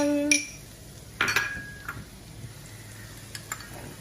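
Mushrooms, onion and garlic going into a pan for mushroom soup: a few clanks and scrapes of utensil against pan, a bright metallic clink near the start and light clatter after, fairly quiet with no talk.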